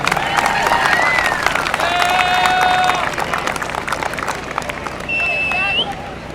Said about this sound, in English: Let's have one more round of applause for your EHS senior football players.